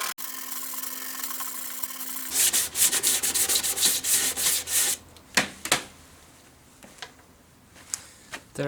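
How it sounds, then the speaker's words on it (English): Sanding the wooden side of a nylon-string acoustic electric guitar by hand: loud, rhythmic rasping strokes in quick succession, close up, then slower, separate scrubbing passes with pauses between them. "trying to sand the whole lot down to get rid of those marks"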